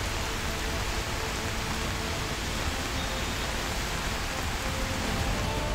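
Heavy monsoon rain pouring down in Mumbai, a dense, steady hiss of drops with no break, loud and close, with no voices.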